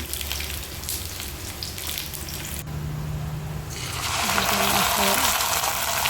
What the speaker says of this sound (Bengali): মাছ মাছের পাখরে ফুটছে মাছগুলো কড়াইতে দিয়ে দিলাম